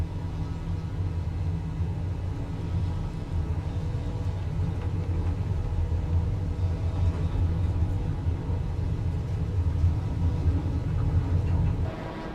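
Steady, loud droning rumble of De Havilland DHC6 Twin Otter twin turboprop engines throttling up in Flight Simulator, a continuous low hum with no breaks, fading slightly at the end.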